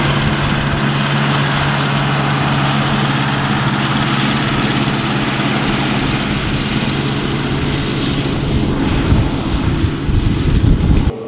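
Kioti HX tractor engine running while driving, a loud, steady low diesel drone with a constant hum that holds level throughout and swells slightly near the end, heard from close by.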